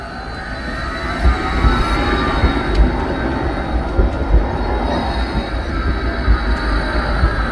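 A tram rolls along an urban tram line in Brno, a steady loud rumble of wheels on rail with faint metallic squeal, sustained close by throughout with no talk.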